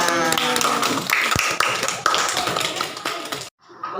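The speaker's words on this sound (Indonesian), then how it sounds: "Tepuk tangan dulu buat semuanya" Applause from a classroom of children and teachers, dense overlapping hand claps filling most of the moment before cutting off abruptly into quiet room tone.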